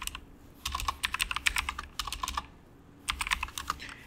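Typing on a computer keyboard, brisk clusters of close, crisp key clicks in three bursts separated by short pauses, with no talking.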